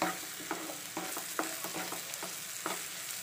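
An egg fry mixture for dosai sautéed in a pan over a simmering flame, with a soft, steady sizzle and a series of distinct spatula scrapes and taps, heard up close without talk.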